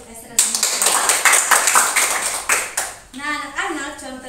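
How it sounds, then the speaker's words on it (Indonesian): A classroom applauds a student with a burst of scattered, close handclaps lasting a few seconds, followed by a teacher speaking as the clapping fades. "berikan tepuk tangan untuk Esther dan teman-teman"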